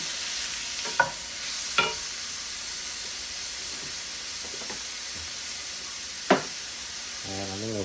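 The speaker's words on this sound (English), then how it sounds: "we're gonna add the garlic in there. And saute these until the vegetables have caramelized." Cabbage and garlic sauté in a pan, a steady low sizzle with a few sharp clinks of a utensil stirring against the pan, ending with a brief tonal sound.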